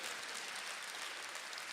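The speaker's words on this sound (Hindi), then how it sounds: "हाँ, अब बजाएंगे ताली जिसके समझ में आ जाएगी।" Audience at a Hindi stand-up comedy show breaks into steady, dense applause, a continuous wash of clapping that stays loud and even throughout with no voices over it.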